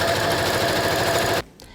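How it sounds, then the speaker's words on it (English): Sewing machine stitching down the interior lining of a skirt, a rapid, steady mechanical chatter up close that stops abruptly just before the end, leaving brief quiet. "First, sew down the interior lining."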